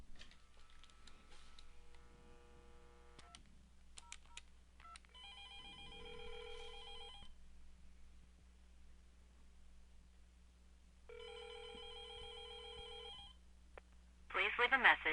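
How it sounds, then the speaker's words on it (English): An office desk phone on an Exchange 2013 unified messaging system rings after an extension is dialed, two electronic ring bursts separated by a pause, with keypad tones before and a faint voice underneath. "we're going to dial Bethany's number at extension 2002."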